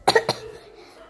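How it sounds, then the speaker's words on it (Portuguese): A few quick coughs from a child, close and fairly loud, bunched at the start and followed by quiet room tone. "Desculpa, porque eu tenho uma tosse."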